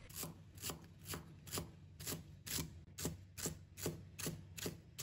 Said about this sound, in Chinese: 再准备几根香芹，把它切成小粒